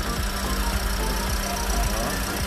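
A 2018 Toyota Wigo with a 1.2-litre petrol engine and manual gearbox idles, giving a steady low rumble with a faint regular knocking pulse under constant noise.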